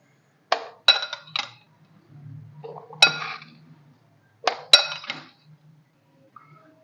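Chopped mango pieces dropped into a glass jug for a peach and mango milkshake make a few sharp glassy clinks in three close clusters, with quiet gaps between them.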